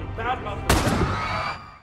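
A single film gunshot rings out as Miguel fires at Julia, a sharp crack followed by a brief decaying echo, heard just after a few murmured voice-like sounds.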